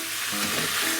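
Miso-koji marinated pork steak sizzling loudly in a hot pan as it is flipped, a dense continuous fry with a brief shuffle of the turn, no speech.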